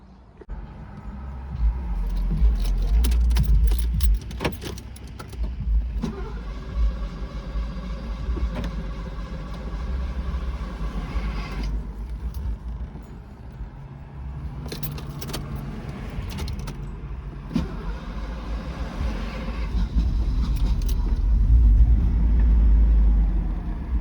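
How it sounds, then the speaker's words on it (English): A 1984 Mercedes 380SL (R107) with a warm/hot-start fault, its engine cranking on and on after sitting warm for 15-20 minutes: prolonged low mechanical churning with surges, heard alone and close up beside a brief jangle of keys. "when it's warm, after it's been sitting for 15-20 minutes, it just cranks and cranks"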